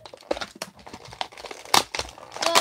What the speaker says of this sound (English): You guys hear a lot of paper because I'm trying to throw this.